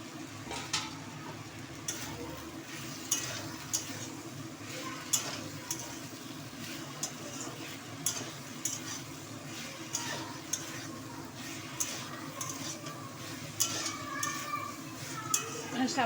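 Lentil fritters (bori) frying in a pan of Bengali barbati and masur dal curry: a steady, close sizzle runs throughout, with regular light clinks and scrapes from stirring.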